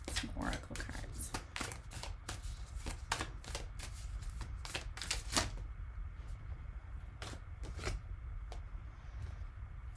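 Oracle cards are shuffled in quick bursts of crisp riffling and slapping, dense in the first half and then sparser, close and fairly quiet, with no talk over them.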